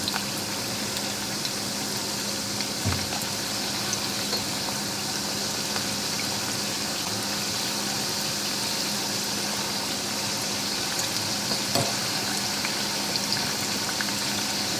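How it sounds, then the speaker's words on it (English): Small portions of Schmalzgebäck pastry dough sizzle and bubble in hot frying oil, a steady, dense crackle running evenly throughout without any talking. "I do it in smaller portions so they have enough space to be here in the hot oil."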